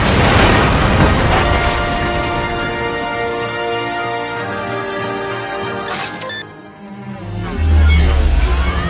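Moonbeam weapon charging and firing in the video game Tales from the Borderlands: a sustained layered energy hum with a sharp burst near the end and a deep booming blast, loud and under game music.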